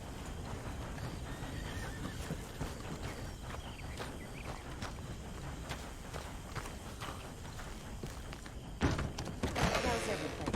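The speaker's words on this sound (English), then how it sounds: "Get that horse out of here!" A horse in Red Dead Redemption 2 clip-clops along with steady hoofbeats, then lets out a loud whinny near the end, with ambient game sounds underneath.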